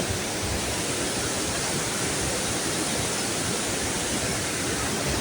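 Rushing water of Sathmahal Ella waterfall, a steady, dense roar of falling water, constant and fairly loud throughout with no voices.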